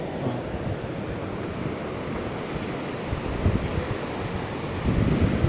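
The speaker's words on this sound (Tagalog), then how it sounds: "Watch the professional waves." Ocean surf rolls at the Cloud 9 surf spot in Siargao, a broad continuous roar with wind buffeting the microphone and a surge of louder wash near the end.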